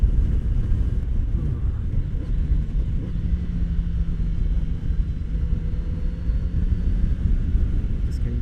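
A 2019 Kawasaki Z900RS Cafe motorcycle is under way, its engine a continuous low rumble mixed with heavy wind buffeting on the microphone, steady throughout with no speech.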